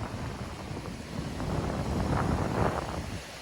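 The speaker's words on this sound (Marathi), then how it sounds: "वारा एवढा भयंकर आहे ना इथे" Strong wind at the sea on the Mumbai coast roars and buffets the microphone in a continuous rumble, swelling louder midway before easing slightly.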